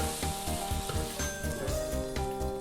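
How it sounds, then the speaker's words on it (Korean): Beef bulgogi for quesadillas sizzles as it is stir-fried in a dry pan over high heat, a close, steady crackle broken by regular scraping strokes of a spatula. "물이 없이 센 불에서 천천히 잘 볶아서 해주시면 되거든요."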